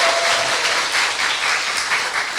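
Steady applause from a crowd, dense and continuous for the whole stretch with gentle swells in intensity and no voices over it.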